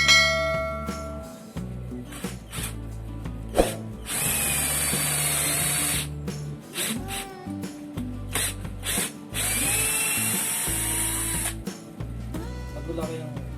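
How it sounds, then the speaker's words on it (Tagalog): A Mitsushi cordless drill drives a large screw into a pilot hole in repeated whining bursts that start and stop, loud and close, with someone talking between and under the runs. "Subukan natin i-drive itong malaking screw to."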